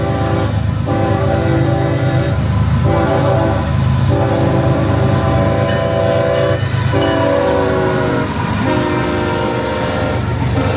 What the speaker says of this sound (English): I never gave up on the fact that there was a train coming.